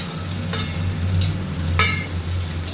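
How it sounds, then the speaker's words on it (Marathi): Onions, garlic, ginger and a green chili sauté in hot oil for a Goan mixed-vegetable tonak, giving a soft steady sizzle with a few brief stirring scrapes of a spoon; no voices. "आता कांदो लायट ब्रावन जायसर परतून घेवपाक जाय."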